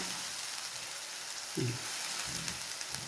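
Ginger garlic paste hits hot oil in a pan while bottle gourd kofta curry is being made, giving a steady hissing sizzle with a few soft clinks and stirring scrapes, close and moderately loud.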